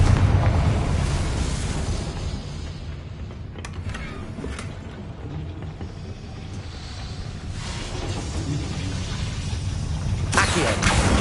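A Confringo blasting spell from the video game Hogwarts Legacy detonates with a deep, rumbling explosion that swells, fades into creaking debris and low rumble, then surges again near the end; a voice briefly speaks.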